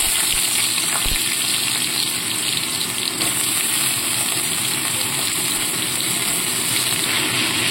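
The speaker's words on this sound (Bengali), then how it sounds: "এবার কড়ার মধ্যে আমি কেটে রাখা আলুগুলোকে দিয়ে দেবো।" Cut potatoes frying over a high gas flame in a hot wok, giving a steady, loud, close hiss and bubbling crackle that continues without a break, with one brief knock near the start.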